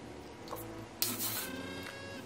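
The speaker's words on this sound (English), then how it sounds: "Oh, it's hairspray." Sexy Hair Pure Addiction hairspray with mimosa oil gives one short, close hissing spray burst of about half a second, fading against a quiet room hum.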